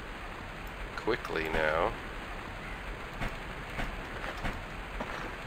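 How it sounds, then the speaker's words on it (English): Rain falls steadily outdoors as a broad, even hiss throughout, with a person speaking briefly over it and a few faint rustles and knocks nearby. "it's raining now"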